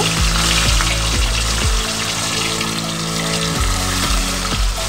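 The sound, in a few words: fish frying in kadai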